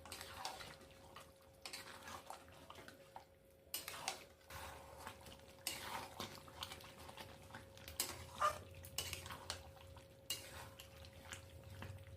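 Doi chicken is stirred in a pan, making faint, scattered scrapes and soft clinks of a utensil against metal at an uneven pace over a low steady hum, with no voices.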